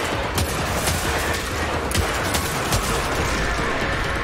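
Weapons fire during a Destiny 2 Nightfall strike, Savathun's Song, on PC, a dense continuous barrage of rapid shots and blasts, loud and close, layered over a thick roar of game action.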